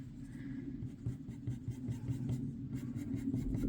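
Light pencil strokes scratch across paper while colouring auburn hair, a steady run of soft, close scraping with small rhythmic pulses throughout and no talking.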